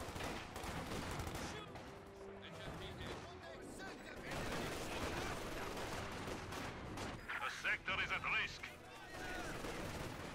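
Maxim machine gun fire rattles in a Company of Heroes 2 real-time strategy battle, with continuous bursts and scattered shots mixed among other combat noise as commentators talk over the action.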